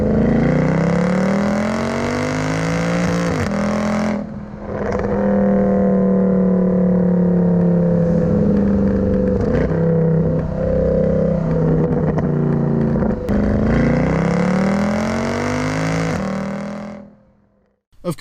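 A car engine revs hard while driving, loud and close, climbing through gears with repeated surges and brief lifts between pulls, then dropping off sharply at the end.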